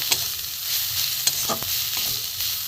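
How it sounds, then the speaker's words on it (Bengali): Spice masala sautéing in a pan over a low gas flame, a soft steady sizzle broken by scraping stirs of a spoon, close and fairly quiet. "গ্যাস কমিয়ে মশলাটাকে আমি কষিয়ে নেব।"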